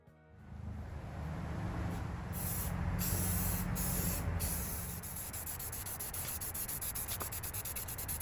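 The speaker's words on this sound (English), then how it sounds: "I'm going to cover this in some primer sealer just until I can get back to it." Primer sealer hisses from a spray gun onto the rusted front fender of a 1956 Studebaker Hawk, a loud steady spray that starts abruptly and pulses slightly before easing off.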